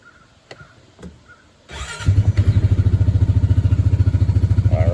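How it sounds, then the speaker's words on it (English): A 2023 Honda Pioneer 520 side-by-side cranks briefly after a quiet pause, then catches and settles into a loud, steady, close idle with a rapid even pulse. "So why don't we fire it up, Benny?"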